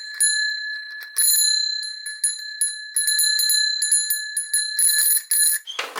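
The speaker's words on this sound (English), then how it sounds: "Listen to every time it hits the bell." A small bell rings repeatedly with clear, bright metallic tones, struck in irregular quick succession, each strike sustaining a shimmering ring, close and alone.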